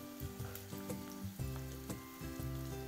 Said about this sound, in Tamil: இப்போ எல்லாத்தையும் போட்டு வடிவாக மிக்ஸ் பண்ணி ஒரு 2 நிமிடங்கள் ஃப்ரை பண்ணிக்கொள்ளுங்க.